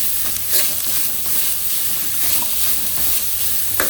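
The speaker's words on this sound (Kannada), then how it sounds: "ಮತ್ತು ಈರುಳ್ಳಿ ಹಾಕ್ಕೊತಾ ಇದ್ದೀನಿ ನೋಡಿ" Onions frying in hot oil over high heat for a tempering, a steady close sizzle and hiss with occasional stirring scrapes throughout.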